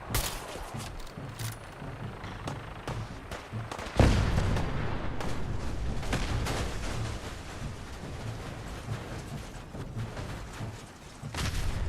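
Gunfire at a target in the video game Fallout 4 comes as repeated sharp shots and bursts, with a heavier blast partway through followed by a dense, rumbling barrage.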